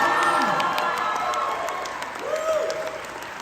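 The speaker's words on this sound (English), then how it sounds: "Give yourselves a round of applause." A convention crowd claps and cheers, with excited shouts and whoops rising over dense applause that gradually eases, heard close and loud.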